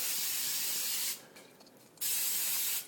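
Two long bursts of aerosol cooking spray coat a pan ahead of a Swiss cheese omelette, loud and close, separated by a quieter gap of faint rattling from the can.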